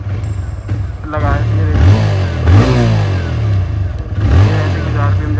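A 2023 TVS Raider motorcycle engine runs and revs in steady, close bursts, with someone talking over the engine noise.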